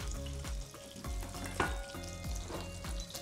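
Onions go into a hot pan and fry with a constant crackling sizzle, close up, while a utensil stirs them with soft scraping knocks.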